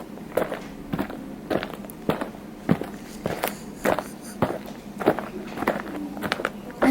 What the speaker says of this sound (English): we heard footsteps